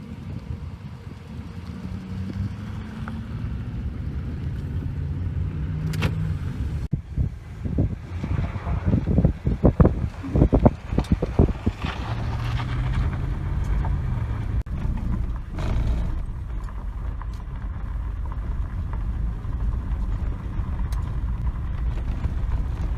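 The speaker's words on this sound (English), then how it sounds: "let's go and hop back in the vehicle" A vehicle travels down a dirt road with a steady low engine rumble and heavy wind buffeting on the microphone. Brief rattles and knocks rise in the middle.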